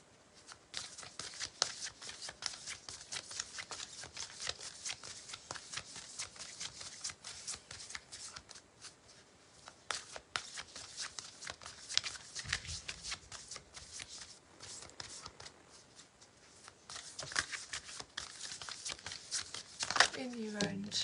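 A deck of oracle cards being shuffled up close, rapid papery riffling and sliding in repeated bursts, soft and crisp, with a person talking quietly in between.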